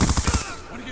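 Rapid automatic gunfire from Black Ops 2 rattles out in a quick burst of five or six shots, then cuts off into a fading, echoing tail.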